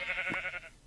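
Goats bleating in the Minecraft video game, a short wavering bleat with a harmonic, nasal tone, close and fairly clear, with no talk over it.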